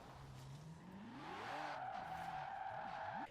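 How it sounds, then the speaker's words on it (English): A fast car in the Forza Horizon 4 racing game accelerates hard, its engine note climbing steeply in pitch as it revs through the gears, with a brief tire-squeal quality. The sound is loud and continuous, with no talk over it. "It's really the fastest accelerating car in the game by miles."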